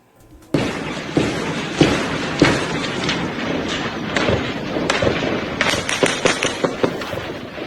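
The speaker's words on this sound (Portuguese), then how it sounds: "São vários e vários e vários disparos acontecendo um na cola do outro no começo da manhã de hoje" Rapid gunfire from a police operation in Rio de Janeiro, caught on a radio recording: loud, sharp cracks in quick succession, some bunched close together, over a constant noisy background, with no talking.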